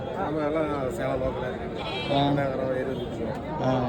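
Several sheep bleat repeatedly and loudly, close by, at a busy Saturday goat market in Salem, with people chattering underneath.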